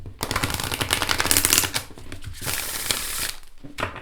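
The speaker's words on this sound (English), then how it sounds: "you can riffle shuffle it if you put it in 2 small sections" A thick tarot card deck being riffle shuffled in two small sections, a dense burst of rapid crackling card flutter lasting a couple of seconds, then softer bridging shuffles, close and alone with no talk.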